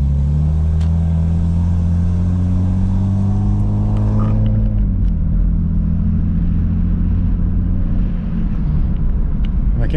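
Lexus IS300 with drive-by-wire delete, engine pulling loudly from inside the car as revs climb steadily, then a shift and lower rumble continuing under acceleration, exhaust leak present.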